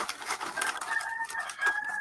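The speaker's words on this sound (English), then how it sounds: "Oh, the chickens." Backyard chickens cluck and squawk close by, a busy run of short, overlapping calls with a few drawn-out cries, moderately loud and with no talk.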